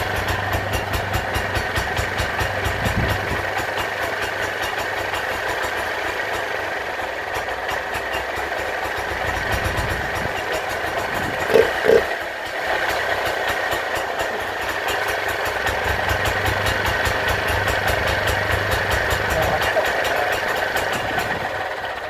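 A small Vire engine with a refurbished Tillotson carburettor idles in a steady, even chug, a brief knock sounding around the middle before the rhythmic running resumes.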